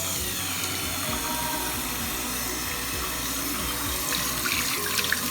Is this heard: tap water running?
yes